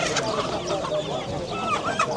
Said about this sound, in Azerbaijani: Gəzək biraz burada xoruzlar gördüm